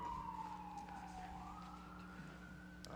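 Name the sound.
siren passing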